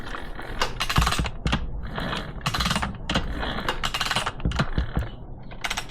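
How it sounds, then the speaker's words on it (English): Piston of a Honda CR125 two-stroke engine being turned by hand inside its cylinder after the cylinder head is torqued down, giving a steady run of soft mechanical clicks, scrapes and creaks close by. "Let's see how good the piston moves."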